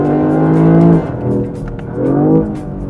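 A Lexus LBX Morizo RR subcompact crossover hot hatch drives with a steady engine note that rises, drops near the one-second mark, then surges again with a short acceleration before fading.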